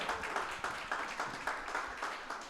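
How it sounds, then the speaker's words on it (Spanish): A church congregation claps together in a rhythmic, unified beat, steady even strokes repeating at moderate loudness in a reverberant hall. "Un aplauso al Señor."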